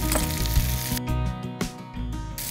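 Chopped garlic dropped into a hot pan for a shakshuka, giving a steady loud sizzle with a brief sharp burst near the start and a short dip midway before the frying resumes.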